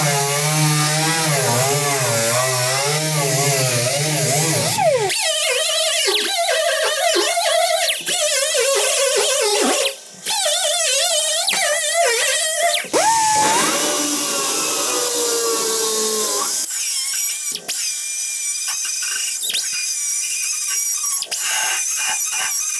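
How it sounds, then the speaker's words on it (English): A wire wheel grinds along the flange of a 1960s GMC/C10 truck cab panel to expose spot welds, a loud, continuous harsh squealing scrape with shifting pitch and brief pauses, close and alone without talk. "use the wire wheel again, and we're just gonna go over that flange and expose where all of those spot welds are"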